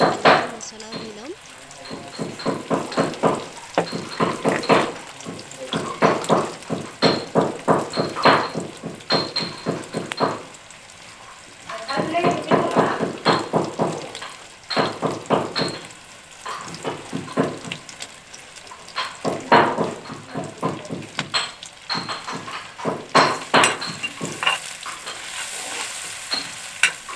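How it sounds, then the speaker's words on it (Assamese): Onion, ginger and garlic stir-fry in hot oil for a local chicken curry, with repeated scraping stirs and a steady sizzle that comes in bursts over the whole stretch, fairly close and moderately loud. "তেল গৰম হৈ এতিয়া পিঁয়াজ, আদা, নহৰুবিলাক তেলতে দিছোঁ।"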